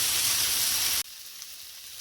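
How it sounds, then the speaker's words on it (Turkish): Bazlama flatbread frying in butter in a hot pan, a loud, close, steady sizzle that suddenly drops to a much quieter crackle partway through. "Bazlamaların üstüne tereyağladık. Birazcık kızarttık."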